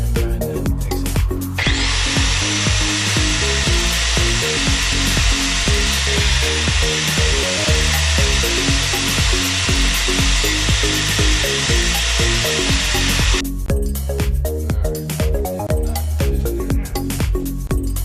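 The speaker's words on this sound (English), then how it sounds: "So I need to grind this out right here to be able to get that blade in there" A grinder cuts into metal on a Bandit 90XP wood chipper to make room for a new blade, with a shrill sustained whine held for about twelve seconds and clanking, rhythmic mechanical noise before and after.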